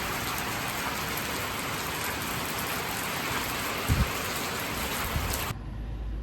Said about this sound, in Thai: ใช่ฝนตกครับ